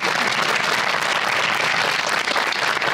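A studio audience at a comedy talk show applauds steadily and densely, a loud continuous wash of many hands with no break for the whole stretch.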